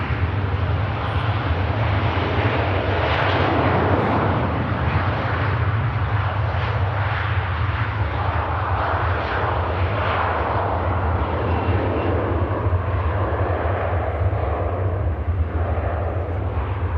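A fixed-wing airliner departing Manchester Airport, its jet engines a loud, sustained broadband roar that holds steady throughout with no talking.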